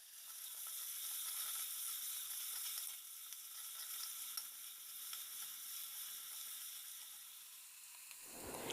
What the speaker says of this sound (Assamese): আদা নহৰুৰ পেষ্টখিনি দি অলপ ভাজি লৈছোঁ